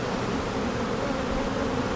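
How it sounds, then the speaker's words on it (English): Dense, steady buzzing of many honeybees crowded on a beehive frame, a close continuous drone heard alone with no talking. "There is a ton of bees on this frame"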